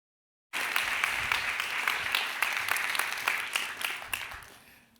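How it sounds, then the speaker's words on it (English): An audience at a philosophy talk breaks into warm applause to welcome philosopher Paco Calvo, starting abruptly after a silent moment, staying dense and steady, then tapering off toward the end. "warm applause for Paco Calvo"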